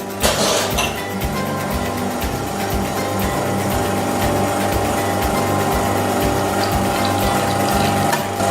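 Espresso machine pulling a single shot for an affogato, its pump whirring and rattling steadily with mechanical ratcheting and faint clinks throughout, close and continuous with no talking.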